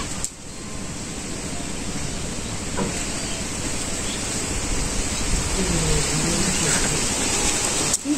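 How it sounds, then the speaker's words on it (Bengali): Strong hot wind from a pre-monsoon Kalbaishakhi-type storm, with no rain falling, roars as a dense, continuous rushing noise that builds slightly over time, with faint knocks and a brief distant voice underneath. "কাল বৈশাখী ঝড়ের মতো ঝড় হইতেছে, তো বৃষ্টি নামতেছে না, শুধু ঝড় আর গরম বাতাস।"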